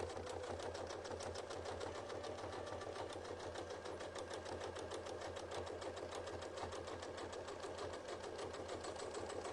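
Sewing machine running continuously, stitching a circle guided along a ruler for a Celtic spiral triskele design, with a fast steady needle chatter and motor whir throughout, close and fairly quiet.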